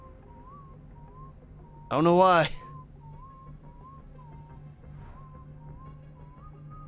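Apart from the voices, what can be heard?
whistling in video game Road 96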